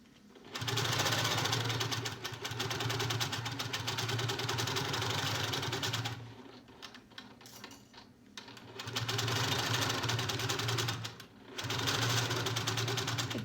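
A longarm quilting machine stitches binding onto a quilt, a loud, steady mechanical whir running in long bursts with a short pause of quieter handling in between.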